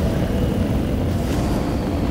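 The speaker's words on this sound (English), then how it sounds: "I said their car sounds like it's old." An old car engine in the Fortnite video game gives a steady, loud, low rumble that runs without a break for the whole moment, with no voices over it.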